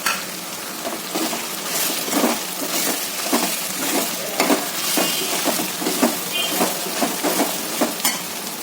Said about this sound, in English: Very long time I'm continuously frying all these ingredients.